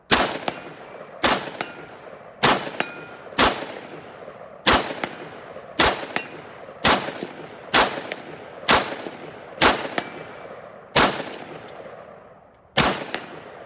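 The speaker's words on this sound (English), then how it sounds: "let's get some more shooting in. There it is." A Sig Sauer Virtus AR-15 rifle fires a dozen sharp, loud single shots outdoors at a steady, unhurried pace, each crack ringing off with a short metallic tail, with no talking.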